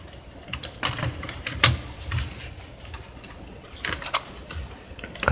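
Typing on an Asus X454Y laptop keyboard with a faulty, non-original keyboard, a steady patter of close keystrokes with a few louder clacks over a constant hum.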